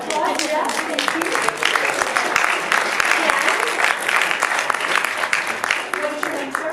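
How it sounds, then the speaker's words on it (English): Steady, dense applause from a live audience at a motivational talk on stage, a crowd clapping continuously for a volunteer coming up, with some voices mixed in. "Give her a round of applause."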